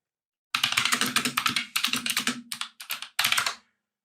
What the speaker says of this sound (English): I'm going to regret typing this in.